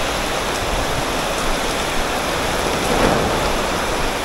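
Heavy rain pours down in Nha Trang, a loud, dense roar of water close by with a slight swell near the end and no voices.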